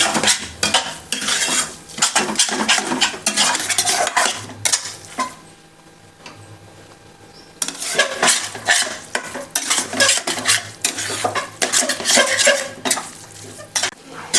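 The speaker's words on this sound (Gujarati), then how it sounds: "હવે આપણે ગેસની ફ્લેમ સ્લો રાખી બધાને સરસ રીતે સાંતળીશું" Grated corn mixture sautéing in a pan over a low gas flame, a busy sizzle with repeated scraping and clinking of a spoon against the pan, near and loud, with a short quieter pause midway.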